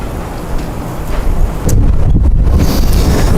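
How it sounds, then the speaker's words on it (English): Strong gusts of wind buffet the microphone beside an outdoor grill, a loud, rumbling roar that swells and surges unevenly throughout. "the wind's playing a little havoc with the fire right now"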